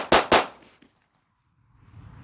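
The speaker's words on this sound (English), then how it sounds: "I'm going to draw and fire 3 shots" A handgun fires during a concealed carry draw-and-fire drill: two loud, sharp shots in rapid succession close to the microphone, their echoes fading into quiet before faint outdoor background returns.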